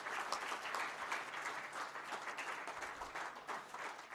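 Sustained audience applause at a book launch, a steady, even crackle of many people clapping together throughout, fairly faint and uninterrupted.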